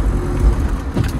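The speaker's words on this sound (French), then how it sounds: "Vu que ça patine." A van on city tyres spinning its wheels in thick mud on a Turkish road trip, a steady loud engine drone with rising revs over the whole stretch.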